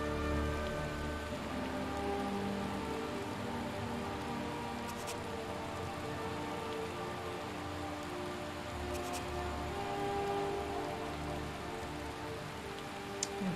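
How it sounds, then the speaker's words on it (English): Steady rain in the video game Skyrim pattering continuously at moderate volume, a soft even hiss with faint rumbling underneath and no talking. "we're gonna wait till the rain stops"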